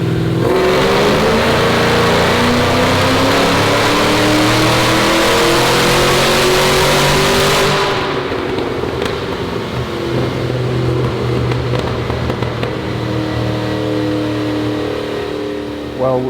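850-horsepower car running E85 fuel, its engine revving hard and rising loudly on a dyno pull for about eight seconds, then easing off to a lower idle with someone talking over it.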